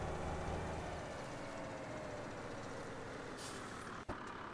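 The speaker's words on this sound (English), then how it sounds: "as I just casually drive up the shoulder in my big old truck" A big truck drives up a road shoulder in a farming video game, a steady, loud engine drone throughout with a brief hiss and a thud near the end.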